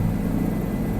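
Helicopter rotor and engine drone in Microsoft Flight Simulator, a steady loud low rumble with no let-up across the short stretch and no talking.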